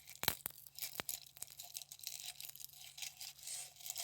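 Dry dehydrated onion pieces crackle and crunch, a quiet run of close, crisp crinkling and tearing noises over a few seconds without speech.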